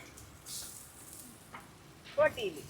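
Boti (offal) frying with beaten egg poured over it at a late-night street food stall in Kollam, giving a soft, steady sizzle while people talk nearby.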